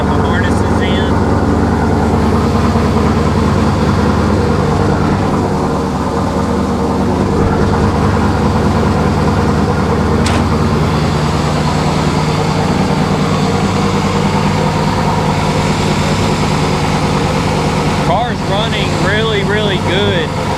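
An S10 engine fitted with Sniper EFI running steadily at idle, a continuous close rumble with someone talking over it throughout.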